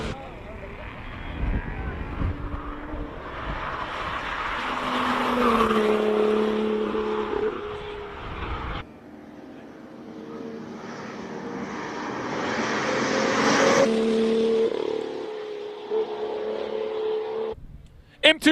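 A Porsche 911 with a six-cylinder turbo engine races up a hill climb course, its engine rising and falling in pitch through the gears as it passes, with a commentator talking over it.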